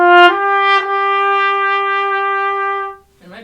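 A single sustained trumpet A, fingered with the first valve slide extended, rings steady and bright for about three seconds before stopping, followed by a brief breathy sound.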